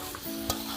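Green jackfruit stirred in spiced oil for a Bengali curry, a brief moderate sizzle with one quick spatula scrape, close and without talk.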